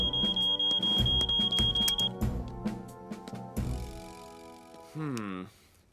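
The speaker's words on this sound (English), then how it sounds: "I'd say this alarm didn't go off by itself." A cartoon smoke alarm at a fire-station-style scene sounds a steady, piercing high beep for about two seconds before cutting off, heard under animated characters talking with clicks and a sliding whistle-like effect near the end.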